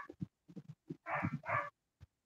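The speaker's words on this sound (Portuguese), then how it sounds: "o cachorro tá latindo muito aí?" A dog barks in short bursts nearby, several quick single barks followed by two longer, louder volleys and a final yip, with no talk over it.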